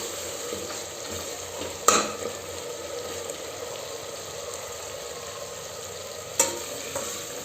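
Spices fry in a pan for chicken korma, producing a continuous close hiss and sizzle, punctuated by two sharp utensil clanks spaced several seconds apart.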